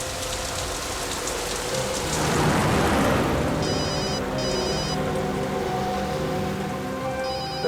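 An electronic phone ring chirps in short repeated bursts over a constant rain-like hiss and hum.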